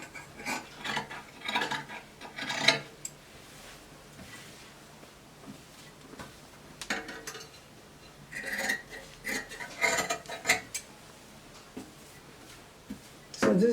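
Scissors cutting fabric for a peplum blouse on a table, with intermittent close snips, rustling cloth and light clinks of tools set down, arriving in irregular bursts separated by quiet stretches.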